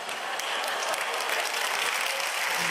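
Steady applause from a large church congregation, dense clapping that holds at an even level throughout with no talking over it.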